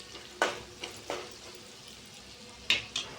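Ginger garlic paste and turmeric frying in a pan while being stirred, giving a faint sizzle with several short scraping bursts from the stirring spoon spaced irregularly through the clip.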